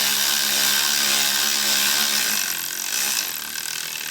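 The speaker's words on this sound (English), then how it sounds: "I'm just going to go ahead with my automatic ratchet and just" An automatic ratchet runs a steady, loud whirring buzz as it tightens alternator bolts on a 2004 Oldsmobile Alero GLS V6, easing off slightly toward the end.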